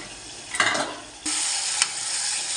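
Chicken wings curry sizzling in a pan as coriander and curry leaves go in, a steady close hiss with a brief stirring scrape and a surge of frying noise.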